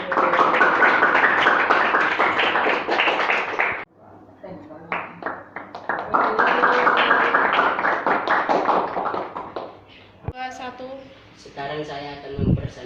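A classroom group claps for a student group's presentation, a dense, steady patter of many hands in two long bursts with a short lull between, voices talking over and after it.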